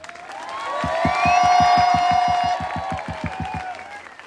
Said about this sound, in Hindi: एक जोर से चिल्लाते हुए ताली बजाकर बैठ जाए।